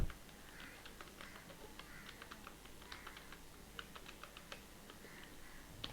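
Typing on a computer keyboard while writing website footer text, a steady run of light, quick key clicks with short pauses, fairly quiet and close, no speech.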